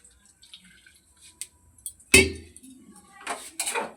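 Water splashes into a cooking pot on a freshly lit gas burner for a vegetable curry. After soft clinks and drips comes one sudden, loud close pour, followed by a few lighter splashes and gurgles.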